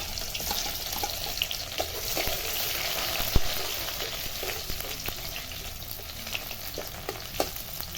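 Chillies, garlic and onion fry in hot oil, a constant crackling sizzle with occasional sharp pops and clicks from a stirring utensil.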